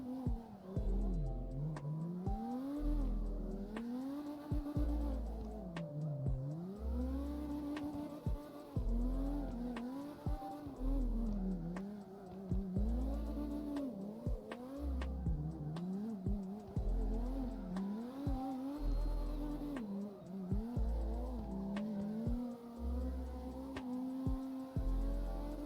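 Toyota Mark II JZX100 drifting in CarX Drift Racing, the engine revving up and down in repeated surges with gear changes and tire squeal, continuous and fairly loud with no talk.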